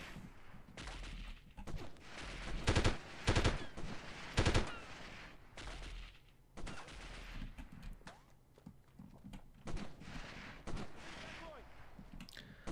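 Bursts of gunfire in the 1998 video game Delta Force, several loud volleys and rapid shots scattered across the clip with quieter stretches of game ambience between them.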